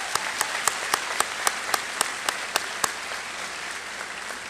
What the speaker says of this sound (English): One more round of applause for our valedictorians and their speeches.